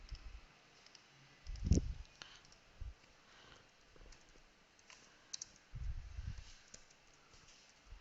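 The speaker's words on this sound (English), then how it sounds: "then I will type" Light clicking of a computer keyboard being typed on, a few brief clustered keystrokes and taps spread across a quiet, faint background.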